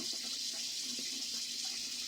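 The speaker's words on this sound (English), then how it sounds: "So, I'm gonna turn on the water." Water runs from a tap in a steady, close hiss while someone washes toy wrestling figures, a continuous gentle flow with no talking.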